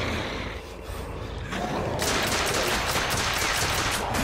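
Rapid gunfire from The Order 1886, a dense continuous burst of shots that gets louder and busier about halfway through, with faint game noise under it and no speech.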